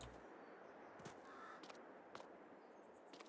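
A large bird caws in Farming Simulator 22 on an old farm, with several short, sharp calls spaced across a steady low game ambience, moderately distant and not loud.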